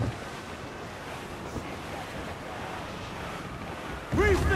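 Stormy sea in Assassin's Creed 4 Black Flag aboard a sailing ship: a steady roar of wind and crashing waves fills the whole stretch, with a brief burst of shouting or a ringing sound at the end.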